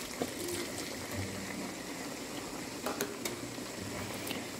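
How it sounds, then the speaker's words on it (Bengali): A cup of water poured into a pot of meat braising for chuijal, a steady broad sizzle and bubbling wash with a few faint clinks, continuous and close, with no talking. "এখন আমি আবারও 1 কাপ পানি দেব।"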